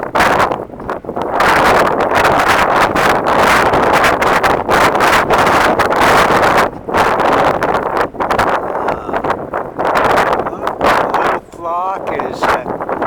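Strong wind buffeting the microphone at a harbor, a loud continuous roar with gusty swells and brief dips throughout.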